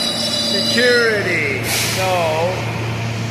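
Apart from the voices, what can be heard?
subway train arriving at the station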